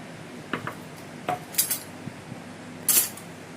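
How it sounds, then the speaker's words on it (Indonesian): A spoon clinks and scrapes against a pot or bowl while sweetened condensed milk is stirred for chocolate pudding, a few short separate metallic taps and scrapes with quiet pauses between them. "aku bakal aduk-aduk si susu kental manisnya ya"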